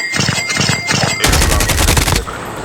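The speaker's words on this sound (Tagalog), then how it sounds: "Nagbabarilan dito boy" Rapid automatic gunfire from the mobile shooter Call of Duty Mobile crackles loud and dense. A short burst of shots is followed by a longer sustained volley, then it cuts off abruptly.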